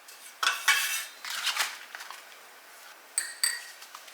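Metal bench scraper scraping and tapping against a work surface while lifting sourdough dough, a few separate light clinks and scrapes, close and clear with no talking.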